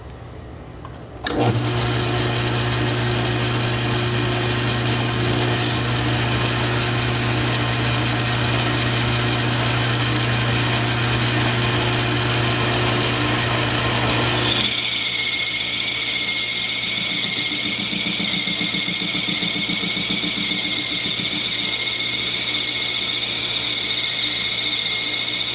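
A metal lathe with an insert tool holder cuts 360 brass, the machine starting with a jolt into a steady loud hum and whine, then shifting to a higher, more tonal pitch partway through as the cut continues.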